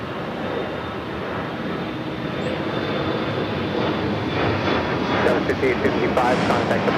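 An airliner taxiing at LAX airport makes a continuous, fairly loud engine rumble and whine that holds steady with a faint high tone above it and no talk.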